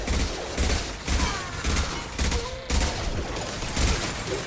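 Impact Shot gunfire from Mass Effect 2 fires as repeated heavy bursts, about one every half second, forming a loud rhythmic volley with a sharp cutoff near the middle.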